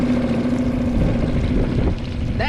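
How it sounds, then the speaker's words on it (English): A powerful outboard motor on a small dinghy runs steadily with a loud, droning hum, holding a constant tone close by for the whole stretch. "That is a monster of a motor that really, whoa, will actually scare you in this dinghy"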